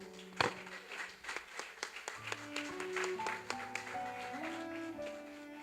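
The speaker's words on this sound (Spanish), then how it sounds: "¿Puede darle un aplauso al Señor?" A church congregation claps in praise of the Lord, sharp irregular hand claps near and scattered over sustained music tones, lasting several seconds.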